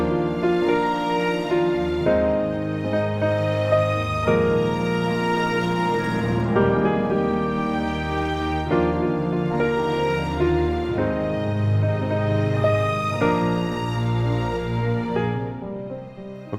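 Solo piano plays an intermediate-level arrangement of a song, a steady, close, sustained melody over flowing chords that runs throughout without any talking.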